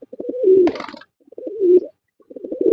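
Close, loud domestic pigeon coos in three short bursts separated by brief pauses, with a wing flutter during the first.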